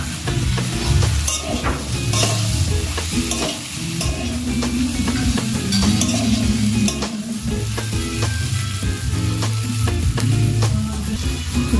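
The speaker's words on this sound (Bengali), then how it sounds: "ধনার গুঁড়ো দিয়ে ভালো করে কষে নিতে হবে।" Spices fry with ginger paste in a pan for a bottle gourd and prawn curry, giving a steady loud sizzle with repeated scraping stirs and clinks throughout, with no talking.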